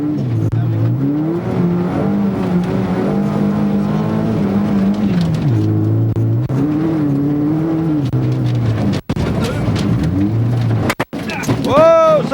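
Onboard a rally car racing at Rallye Portneuf 2005, the engine revs rise and fall through gear changes, loud and close, with harsh transmission whine and brief gaps between shifts.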